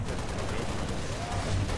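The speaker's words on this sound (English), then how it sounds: "I'm taking fire." Gunfire in the video game Halo Reach, heard as a dense, continuous rattle of shots that fills the moment without a break, loud and close.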